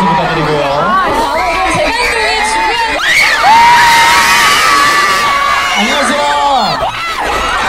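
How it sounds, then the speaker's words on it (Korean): A large crowd cheers and shouts loudly at an outdoor charity flea market event in Korea, with high whoops and children's voices rising over a dense wall of noise. "큰 박수 부탁드리고요"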